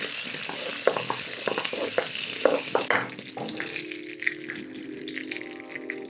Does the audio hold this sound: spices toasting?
yes